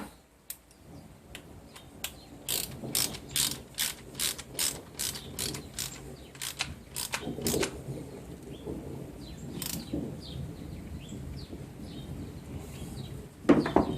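Hogue forend being tightened onto a Mossberg 500 shotgun, a rhythmic series of sharp ratcheting clicks, about a dozen in quick succession, then a few scattered clicks, close and alone.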